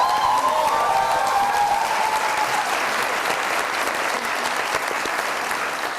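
Studio audience at an Eid special television broadcast breaking into loud, continuous applause to welcome guests, steady clapping with a light crowd murmur that tapers slightly toward the end.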